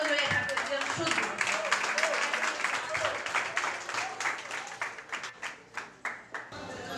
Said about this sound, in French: nous vous demandons de les applaudir chaudement